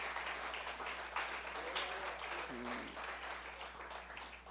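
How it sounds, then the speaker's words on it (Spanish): A church congregation clapping loudly over their heads, a broad, continuous patter of many hands filling the hall, with a low electrical hum beneath and a brief tonal sound near the middle. "aplauda bien fuerte sobre su cabeza"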